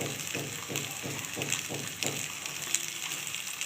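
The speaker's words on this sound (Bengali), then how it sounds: "আমি আর একটু সর্ষের তেল দিয়ে দিচ্ছি" Mustard oil hits a hot pan of chicken kosha made with papaya and gondhoraj lemon leaves, a rhythmic series of soft sizzles and stirring scrapes repeating about every quarter second, steady and close with a bright frying hiss throughout.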